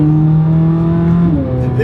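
Corvette C8 Z06 fitted with an Eventuri air intake, driven on a street, its engine holding a steady loud drone that lifts in pitch near the end as it accelerates.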